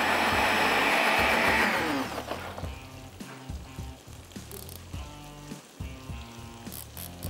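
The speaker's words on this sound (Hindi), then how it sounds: "इसको थोड़ा सा पीस लेंगे" Kitchen grinder whirring as it grinds ingredients for egg jalfrezi, a loud continuous grinding burst for about two seconds, then quieter clattering and sizzling frying sounds.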